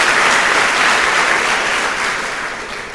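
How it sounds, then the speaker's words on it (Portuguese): A church congregation bursts into loud, sustained applause, many hands clapping densely together before the sound eases off slightly toward the end. "Dê uma salva de palmas a Jesus"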